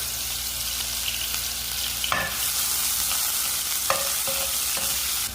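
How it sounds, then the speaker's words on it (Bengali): Chopped onions sizzle in a little oil in a pan, a steady broadband frying hiss throughout with a few sharp clinks of a spatula stirring. "পেঁয়াজ দিয়া পালা করে পেঁয়াজ দিয়ে বাজিমো"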